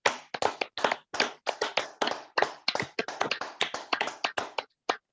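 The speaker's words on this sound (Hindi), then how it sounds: "हम सब एक बार मंजू खेरिया जी के लिए और डॉक्टर अन्नाप्पनापू रामालिंगेश्वर राव के लिए भी तालियां बजाएंगे।" Clapping during a Hindi online session honoring two speakers, a rapid irregular run of close, crisp hand claps, fairly quiet and alone, with short gaps near the end.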